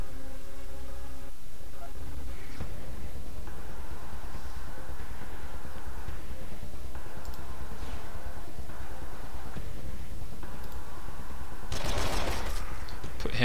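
Combat gunfire in the Wasteland 2 Director's Cut video game, with repeated shots and bursts over a dense background of game music and ambience, ending in a louder cluster of blasts, with a voice talking over it.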